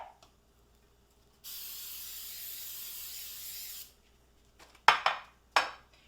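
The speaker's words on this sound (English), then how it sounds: "I'm gonna use coconut oil to spray it on the bottom" Coconut oil hisses out of a spray can onto the bottom of a Pyrex baking dish in one steady burst of about two and a half seconds, followed by a few sharp knocks of the dish or can.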